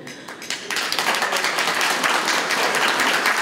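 Steady applause from a sizable crowd at an awards event in Krāslava, Latvia, many hands clapping densely and continuously, swelling slightly and then holding at a full, even level.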